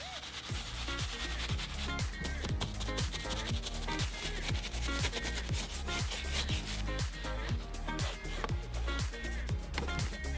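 A brush scrubs all-purpose cleaner into Alcantara upholstery in a RAM TRX interior, making close, rhythmic scratchy rubbing in quick repeated strokes, steady and fairly loud throughout.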